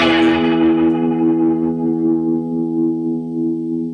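A sustained distorted organ-like tone swirling through a rotary speaker, the warble gradually slowing as the bright upper harmonics fade, loud and steady with no talking.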